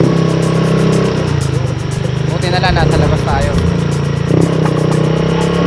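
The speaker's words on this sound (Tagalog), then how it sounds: "Motor lang tayo ngayon." A motorcycle engine hums steadily while riding, a mid-pitched drone close by, with people talking over it and a brief rise in engine noise near the end.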